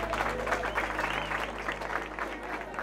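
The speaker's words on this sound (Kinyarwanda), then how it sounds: "Babampera amashyi." Audience applause at a school visit by the Rayon Sports football club at G.S Muhato in Rwanda, steady dense clapping from a crowd of pupils with some background voices and a low hum throughout.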